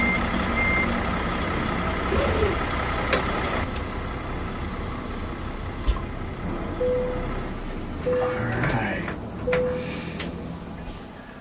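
A 53-foot truck trailer backs toward a loading dock in American Truck Simulator, its repeated reversing beeps sounding over a steady low engine idle, with a few brief thumps and creaks along the way.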